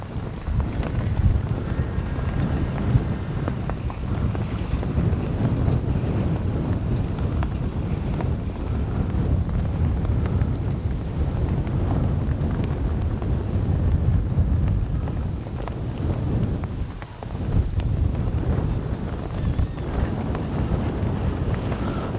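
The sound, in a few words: wind noise on microphone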